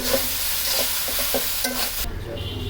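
Noodles and pasta stirred in a hot wok, a steady sizzle with repeated scraping strokes of a spatula, close and fairly loud, no voices.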